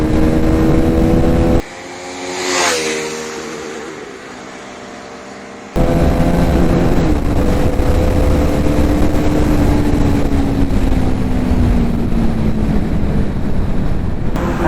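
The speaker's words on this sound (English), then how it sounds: "now let's see how this motorcycle accelerates" A KTM Duke 390 motorcycle's engine winds up in pitch as it accelerates, recorded while riding with heavy wind rush over the microphone, the drone holding strong and then easing slightly near the end.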